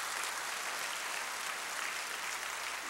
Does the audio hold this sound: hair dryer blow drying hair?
no